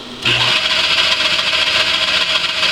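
Cylinder head resurfacing machine spins up after a brief click and runs steadily at about 800 RPM, a loud continuous mechanical whine and hum.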